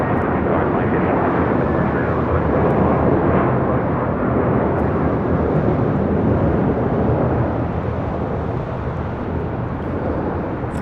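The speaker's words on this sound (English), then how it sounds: "as you do have that Volaris A321 now taking off" Loud, sustained jet roar from a Volaris Airbus A321 taking off at LAX, a dense, steady engine rumble lasting throughout with no clear talking.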